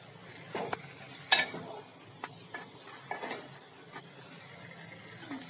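Chickpea curry cooking in a pan with quiet sizzling, as a spoon stirs it and clinks now and then against the metal, close and mostly soft with one sharper knock.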